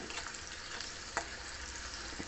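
Spices for gongura chutney sizzle and crackle steadily in hot oil, with a brief clatter of stirring midway.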